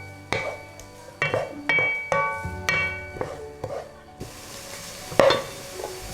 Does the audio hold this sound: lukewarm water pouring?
no